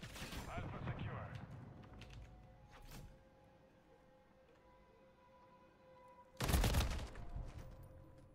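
Video game gunfire bursts during a team objective match, loud rapid volleys at the start, a single shot around three seconds, then another heavy burst near the end, with quieter background stretches between.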